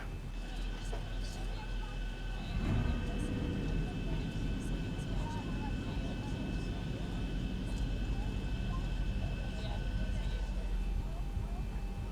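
Boeing 737 in the X-Plane 11 flight simulator taxiing onto the runway: a steady, loud jet engine hum and cockpit drone run throughout, swelling slightly after a few seconds as thrust is added.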